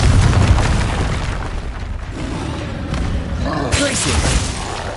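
Confringo fire blast spell cast in Hogwarts Legacy, a booming fiery explosion with dense crackling rumble that swells again near the end, loud and continuous with game effects layered throughout.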